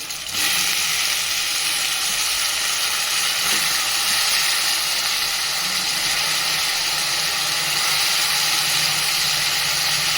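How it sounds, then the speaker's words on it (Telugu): Brinjals and potatoes dropped into a hot pan for a pulusu, giving a loud, continuous close-up sizzle and hiss that holds steady from start to end. "ఇప్పుడైతే నేను ఇందులో వంకాయలను వేసుకుంటున్నా ఆలుగడ్డలు ఇవి పెద్దగానే ఉండాలి పులుసులోకి"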